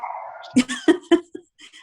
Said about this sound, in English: you hear my dog barking?